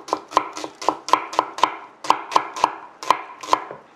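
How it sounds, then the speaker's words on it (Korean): A knife thinly slices an onion on a cutting board in a quick, steady run of about fifteen crisp chops, close and clear with nothing else heard. "만약에 양파를 좋아하시면 다 넣으셔도 돼요. 얇게 썰어주세요."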